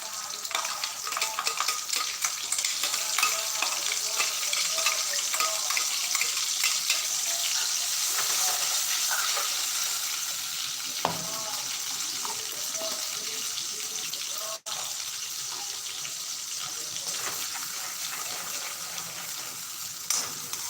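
Loud, continuous sizzling of tomato puree frying in a pan with asafoetida, with occasional stirring scrapes and a brief clatter, no voices.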